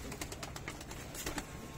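Soft bird sounds, cooing and flutters, close by against a noisy outdoor background.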